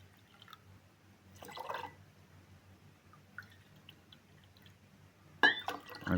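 Water poured into a glass already holding 9% hydrogen peroxide, heard as a couple of short, close liquid splashes and drips separated by quiet room tone, with a sharper splash near the end.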